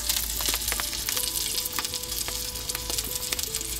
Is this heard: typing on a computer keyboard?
no